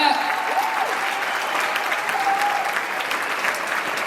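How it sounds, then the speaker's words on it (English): Crowd applause rolls through a high school graduation ceremony, a loud, sustained patter of many hands that holds steady throughout, with faint cheering or voices mixed into the clapping. "Clap it up."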